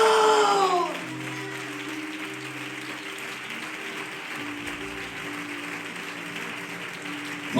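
Applause from a church congregation praising God, a dense even patter of many hands that stays steady and moderately loud through the clip, with no one speaking.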